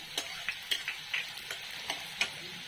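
Finely chopped onion frying in oil for a clam curry, a light continuous sizzle with a series of quick, close ticking stirs of a spoon against the pan.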